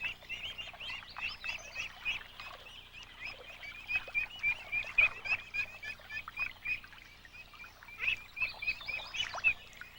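A mother duck with few-days-old ducklings on a pond, thin repeated peeping calls in rapid bursts over a soft outdoor background, moderately near and fairly quiet.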